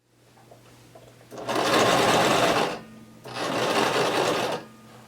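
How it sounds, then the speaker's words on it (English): A sewing machine runs in two loud, steady bursts as it stitches up a coat collar hem on a duster coat, with a brief pause between runs and a quiet hum before the first. "I'm going to keep sewing all the way back up to the top of the collar"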